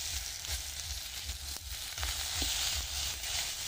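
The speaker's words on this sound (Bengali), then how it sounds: "কম তেলে হচ্ছে গিয়ে বেগুন ভাজি করতেছি, একদম কম তেল দিব।" Brinjal (eggplant) frying in a little oil, a soft, steady sizzle with a faint crackle that holds at an even, low level throughout.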